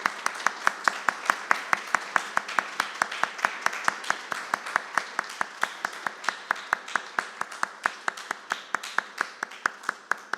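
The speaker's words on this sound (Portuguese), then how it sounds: "eu queria que nós dessemos uma salva de palmas aí para essa mulherada bacana" A church congregation applauds the mothers at a Mother's Day morning service, with steady, evenly spaced claps throughout.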